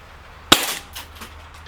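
A single sharp, loud crack from a CO2 blowback airsoft race pistol fired at a target outdoors, followed by a few faint, scattered ticks and impacts over the next second.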